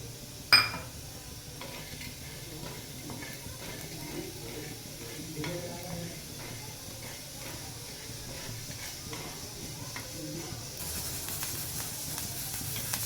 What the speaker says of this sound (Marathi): याच्यामध्ये मी आता थोडी हरभरीची डाळ भाजून घेते घट्टपणा येण्यासाठी